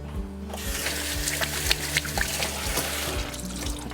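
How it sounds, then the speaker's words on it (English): Hands being washed under a running kitchen tap while preparing a fried chicken sandwich, a steady close stream of water splashing into the sink with small irregular splashes and clinks, no voices. "the next thing I'm gonna do is wash my hands real quick"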